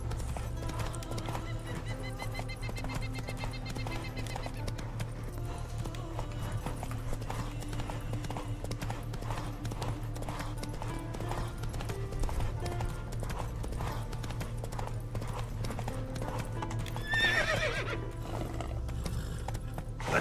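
In the video game Witcher 3, a horse gallops with a steady, rapid stream of hoof clip-clops over a constant low game background, with a brief whinny near the end.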